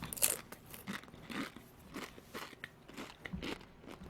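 Close, crisp crunching and chewing of Doritos chips, a steady run of bites and mouth crunches over several seconds with no talking.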